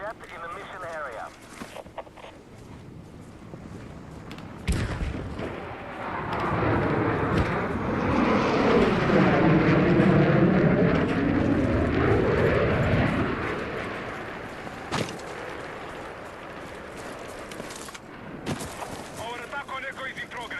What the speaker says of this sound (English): I'm tracking a hostile jet in the mission area.